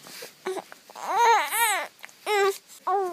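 A baby babbles and coos in short voiced bursts with rising and falling pitch, near and fairly loud, separated by brief pauses.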